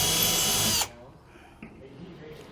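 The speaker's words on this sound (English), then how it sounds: "Now we can go ahead and drill through our mounting holes" A power drill whirs loudly for under a second, drilling through a wheel chock mounting-plate hole into a trailer floor, then cuts off, leaving quiet room sound and a faint knock.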